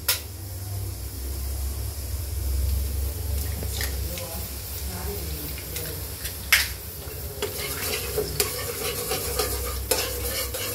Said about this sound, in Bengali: আমি আগে ডিমটা দিয়ে দিই।